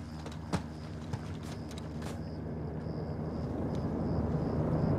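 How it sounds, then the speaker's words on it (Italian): A helicopter approaches in Call of Duty: Modern Warfare II, a deep rotor rumble that steadily grows louder and nearer, with a few sharp knocks early on. "Un elicottero in arrivo."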